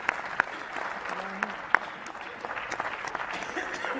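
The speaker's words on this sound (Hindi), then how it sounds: "आप लोग ताली वाली जरा बजाते रहिए" An audience at a Hindi comic poetry event at IIT Guwahati claps in a steady, moderately loud wash, with a few sharper individual claps and crowd murmur mixed in.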